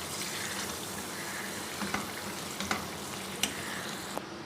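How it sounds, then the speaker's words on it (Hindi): Marinated chicken frying in hot oil in a pan over a medium flame, giving a steady close sizzle and crackle with a few sharp pops and spatters standing out toward the end. "यहाँ मैंने पैन में ऑयल डाल के गर्म कर लिया है और मैं इसके अंदर डाल दूँगी ये चिकन"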